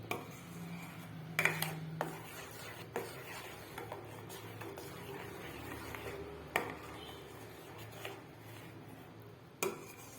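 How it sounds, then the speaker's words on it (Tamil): A spoon scrapes and clinks in a pan while mango halva is stirred over low heat, giving soft irregular scraping with a few sharp metallic taps, faint and close. "அடி பிடிக்காமல் சிம்லேயே வச்சு கிண்டணும்"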